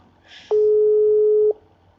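Phone call tones sound while a number is redialed: a brief click, then a single steady electronic beep held for about a second, loud and clean against near silence.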